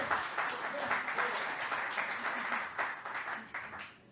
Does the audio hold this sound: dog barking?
no